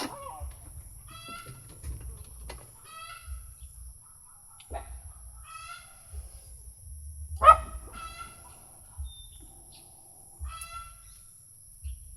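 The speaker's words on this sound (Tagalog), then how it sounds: "ingay ng aso at saka manok" Chickens cluck and call in short bursts at a distance, with occasional dog barks mixed in over a quiet background hum.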